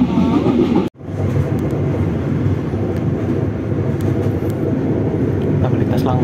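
A passenger train runs straight through Jatinegara station without stopping, producing a loud continuous rumble and rattle of wheels on rails, with a brief dip at the start, as heard from on board.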